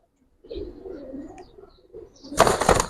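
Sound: Giribaz pigeons cooing

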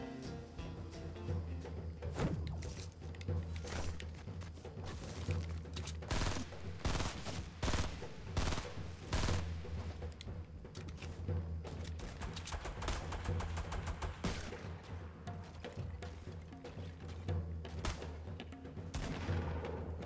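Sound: gunfire in a video game

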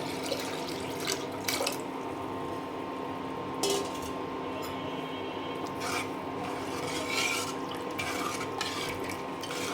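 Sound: water being added to cooking dal

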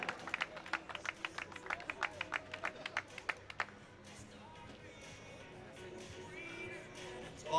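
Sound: crowd applause for rally winners

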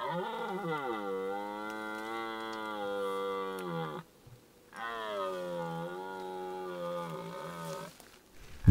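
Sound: red deer stag bellowing during the rut

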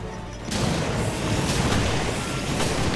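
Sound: grenade explosion in Resident Evil: Revelations video game

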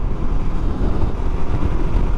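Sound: strong wind while riding motorcycle

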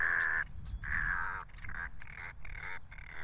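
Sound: roseate tern mother bird calling to chick

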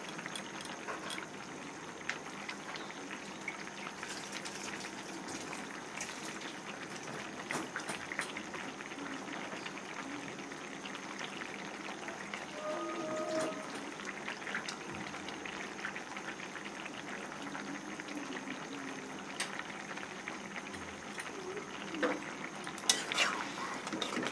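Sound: ground onion and black cumin paste cooking in pan

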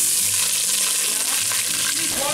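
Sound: onions frying in hot oil

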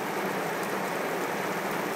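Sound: heavy rain falling at a surf beach

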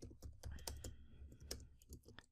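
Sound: typing on a computer keyboard

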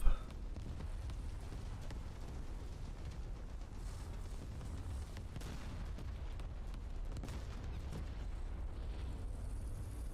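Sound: bombs exploding from level bombing in War Thunder video game

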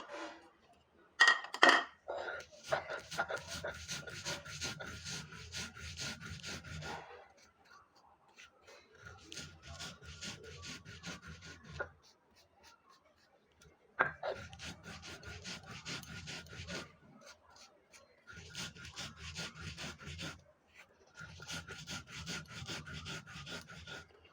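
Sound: grinding black cumin (kalojira) on grinding stone

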